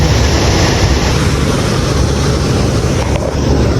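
A waterfall below the Himalaya roars as a dense, loud, unbroken rush of falling water, steady and close.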